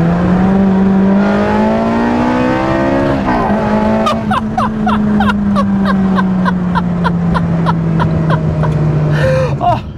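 A Ferrari sports car engine, loud and close, revving with a rising and falling high-pitched engine tone and sharp bursts through shifts, with tire squeal in places.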